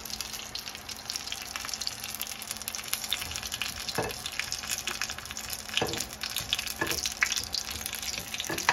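Vegetable spring rolls, lumpiang gulay, fry in hot oil with a steady, dense sizzle and crackle, close and continuous, broken by occasional louder pops.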